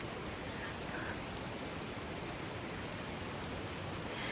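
Heavy rain falls outdoors in the Himalayan hills, a dense, steady hiss of drops at moderate distance with no talking.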